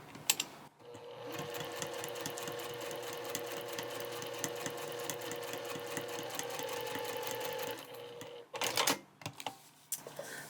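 A sewing machine stitching a zipper runs in a long, steady burst, rapid mechanical chatter up close, then stops and a few short bursts and handling clicks follow.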